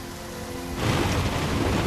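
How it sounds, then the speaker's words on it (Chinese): Heavy rain pours down as a dense, loud, continuous roar that swells abruptly to full strength and keeps going without any voices. "也是大雨"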